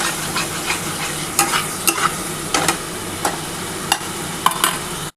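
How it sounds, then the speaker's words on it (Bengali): Masala spices and onion sizzle in a hot pan for doi katla, a constant close frying hiss broken by sharp scrapes and clacks of a stirring spoon every half second or so. "খুব ভালো করে কিন্তু মশলাটা কষাতে হবে"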